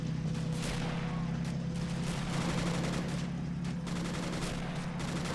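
Dense battle din from a WWII video game set in Italy, with grenade blasts and rifle and machine-gun fire rumbling continuously at moderate distance, no clear pauses.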